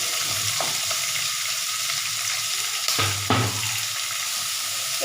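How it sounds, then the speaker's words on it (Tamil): Onion sautés in oil for capsicum kootu, giving a loud, close, continuous sizzle with a few scraping stirs, and nobody speaks. "ரெண்டு நிமிஷம் வதக்கி எடுத்துக்கலாங்க"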